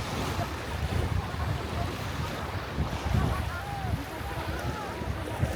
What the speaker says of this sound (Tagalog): Ang lakas kasi ng hangin.